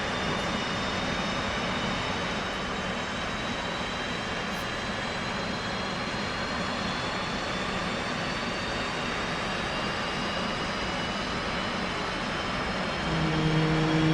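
Jet aircraft engine in the DCS flight simulator game, a continuous, fairly faint turbine whine and roar that holds steady throughout.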